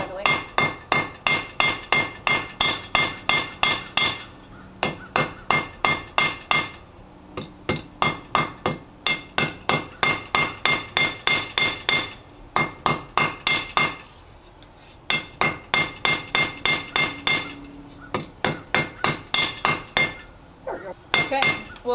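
Hammer blows ring out on hot steel being forged into a hook, struck in fast rhythmic bursts of a dozen or so rapid hits, with short pauses between series; bright metallic clinks carry close and loud throughout.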